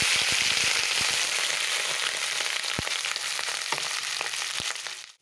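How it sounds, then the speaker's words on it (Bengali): Potatoes fry in hot oil, making a loud, dense, close sizzle with a few sharp crackles and pops. It stays steady for about five seconds, then tapers off at the very end. "এরপর আমি আলুটা ভেজে নেব।"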